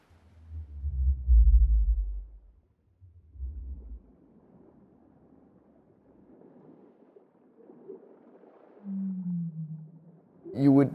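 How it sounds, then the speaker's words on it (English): Low baleen whale calls, from species such as blue and fin whales, rumble deep and drawn out in two bursts, followed by a softer, slightly higher downward-sliding moan and a brief sharp sound at the end. "You would find among baleen whales these sounds that are rather low frequency"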